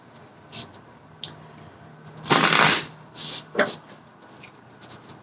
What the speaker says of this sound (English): So I'll pull a couple more cards for you guys.